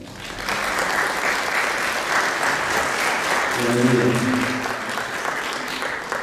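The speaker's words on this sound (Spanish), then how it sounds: "por el psicólogo Jorge Diego Ortega Montaño, para quien pido un fuerte aplauso." Audience at a conference on masculinities and a culture of peace in school settings claps steadily for a psychologist speaker, a sustained wash of applause lasting the whole stretch with no talk over it.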